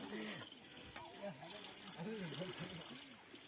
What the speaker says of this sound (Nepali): यो चाहिँ हाम्रो घर छेउको नजिकै खोला हो।